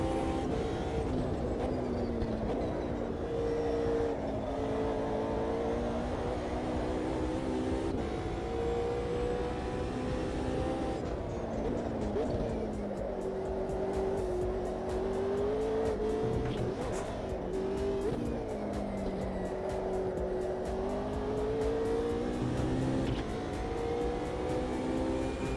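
McLaren race car engine in the AMS2 racing game, a steady loud droning roar with shifting pitch as it revs and changes gear, continuous throughout with brief tire noise.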